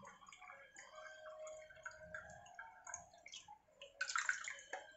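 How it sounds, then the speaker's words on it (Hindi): Water from a glass is poured slowly down the side of a pot of layered chicken biryani, a faint trickle and light splashing that grows brighter toward the end. "तीन ग्लास के लगभग पानी में डाल रही हूँ, 3 ग्लास से थोड़ा कम ही।"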